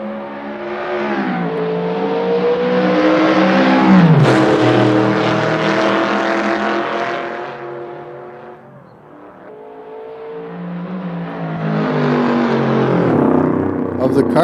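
A race car engine revs up and down over about fourteen seconds, a strong harmonic whine that climbs, drops away sharply near the middle and builds again, loud and close.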